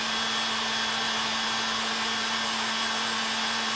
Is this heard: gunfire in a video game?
no